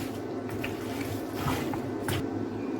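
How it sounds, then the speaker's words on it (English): Palm fruit pulp is stirred by hand in hot water to draw out the oil, making soft, wet squishing and sloshing sounds at close range, steady and fairly loud, with no one talking. "I stir it in here for the oil to come out"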